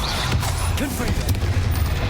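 Confringo blasting spell cast in Hogwarts Legacy, producing sharp crackling bursts and whooshes amid ongoing combat noise, loud and close, with a voice calling out spells.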